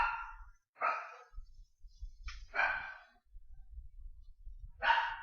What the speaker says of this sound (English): my dogs are barking now